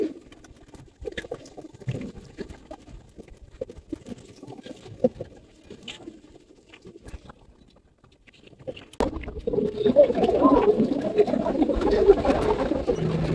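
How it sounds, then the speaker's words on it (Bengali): Giribaz pigeons in a loft give low soft coos amid scattered scratching and fluttering; the sound is sparse and quiet at first, then turns into a dense, louder hum of cooing and rustling. "দেখেন সব কালারিং কবুতর।"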